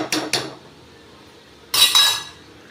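A masher works a tamarind and green chili mixture in a pot for traditional puli inji, giving two quick pairs of clinking, scraping metal strokes, close and moderately loud, separated by a short pause.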